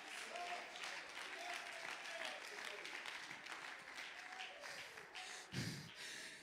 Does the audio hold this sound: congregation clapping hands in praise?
yes